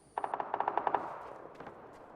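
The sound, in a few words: machine gun gunfire in video game PUBG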